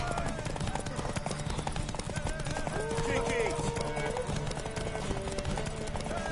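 Horse hooves clip-clopping at a steady trot in the video game The Witcher 3, continuous under game music, with shouted voices over the top.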